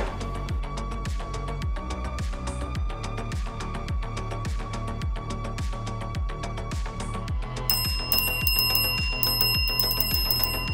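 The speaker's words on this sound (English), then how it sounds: "I'm hoping this plunger here is enough to strike the bell." A solenoid plunger strikes a bell for an Arduino-driven like button, giving a fast, even train of bright metallic rings that blur into a sustained ringing, loud and close, with no talking.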